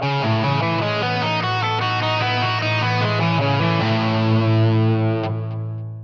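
Scale thirds played as an ascending arpeggio sequence on a heavily distorted electric guitar with chorus effect, notes following steadily one after another over a sustained, loud, close tone that rings out at the end.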